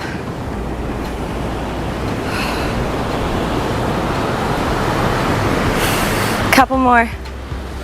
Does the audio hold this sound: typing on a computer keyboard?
no